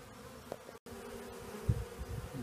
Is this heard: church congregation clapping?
no